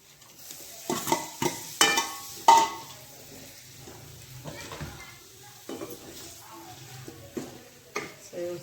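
Fried paneer stirred into an onion-garlic masala in a pan for paneer bhaji, giving irregular scraping and clinking strokes of a utensil against the pan over a faint, steady sizzle.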